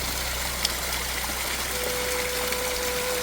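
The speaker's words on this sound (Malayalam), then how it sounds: "ചുമ്മാ ഒന്നുകൂടെ വന്നിട്ട് വെറുതെ പോകുന്നു വെള്ളം" Clear spring water runs past Periya Canal tea factory on Munnar Gap Road, a steady close rushing hiss that fills the whole stretch with one brief splash and a faint thin tone toward the end.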